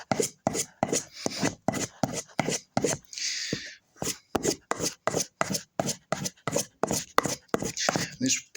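A knife blade is stroked rhythmically along a sharpening surface to hone its bevel edge, rasping strokes repeating evenly at close range, interrupted once by a brief hiss.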